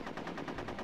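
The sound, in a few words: gunfire in Conker's Bad Fur Day video game battle mode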